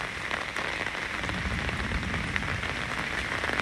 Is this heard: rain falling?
yes